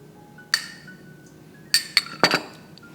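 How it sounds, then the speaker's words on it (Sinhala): Dishes clink as gotukola sambol is mixed in a bowl, with a few sharp, bright taps spaced apart and a quick cluster of clinks near the end, close and fairly loud over a quiet background. "ඊට පස්සේ මේක හොඳට කලවම් කරගන්න."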